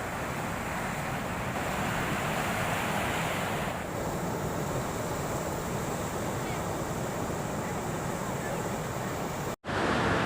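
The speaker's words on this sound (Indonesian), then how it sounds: "Seperti inilah kondisi gelombang yang ada di sekitaran Pantai Galesong, Kabupaten Takalar" Big ocean waves crash continuously onto Galesong beach in Takalar, South Sulawesi, a loud, dense roar of surf with wind across the microphone, briefly cut off near the end.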